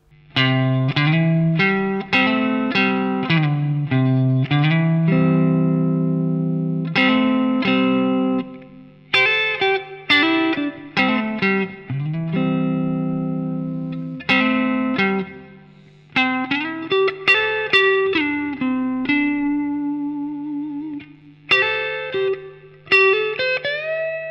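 Electric guitar plays quick country-style major pentatonic licks with bends and twangy picked notes, a steady run of phrases with short pauses, loud and close with some effect coloring.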